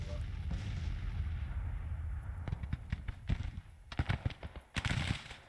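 Gunfire in Grand Tactician, a Civil War strategy game: a cluster of sharp, irregular musket or artillery reports in the second half, near and fairly loud over a steady battlefield rumble.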